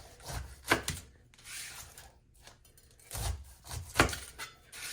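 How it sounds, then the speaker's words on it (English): A knife chops through the top and bottom of a pineapple on a board, giving a few separate thuds with crunchy scraping in between, close and fairly quiet, with no talking. "your next step is you need to chop the bottom and the top off."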